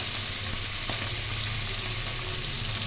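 Hilsa fish frying in hot oil in a pan, with a steady, loud, close sizzle that holds without a break.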